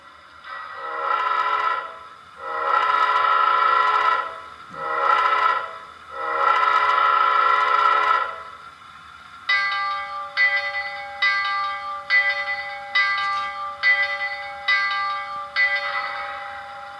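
Bachmann model train locomotive fitted with a Tsunami sound decoder sounds long horn blasts, then a steady run of clanging bell strikes, moderately loud and close with no talking.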